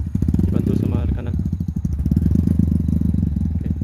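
A trail motorcycle engine in a forest runs nearby with a loud, throbbing, uneven rumble and clattering pulses, while people talk over it.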